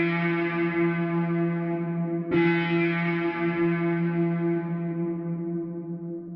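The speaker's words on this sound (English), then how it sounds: "Here's what the pluck sounds like with all the effects added on." A sustained, buzzy synth pluck made in FL Studio with heavy distortion and a long reverb tail, struck twice; the second hit rings out and slowly fades.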